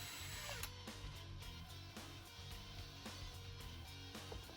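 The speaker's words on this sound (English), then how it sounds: "I decided to go ahead and drill 1 more" A power drill drilling pilot holes whirs steadily in bursts, with brief pauses and changes in pitch as it bites into material, fairly close and fairly quiet.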